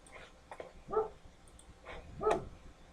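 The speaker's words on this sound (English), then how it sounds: "What's that doodle barking at now?" A doodle dog barks indoors, a handful of short, fairly faint yips and barks spaced irregularly over a few seconds with no talk.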